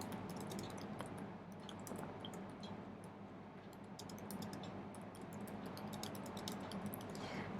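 Faint computer keyboard typing of a business profile description, rapid irregular key taps over a low steady background hum, quiet and continuous with no voices.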